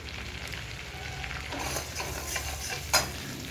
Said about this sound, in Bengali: আমি ওই মাছ ভাজার তেলে